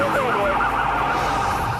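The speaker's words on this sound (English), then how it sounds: "And when the lawman activates his siren," A police car siren wails close by, a continuous rising and falling tone that holds loud and steady, with faint voices beneath it.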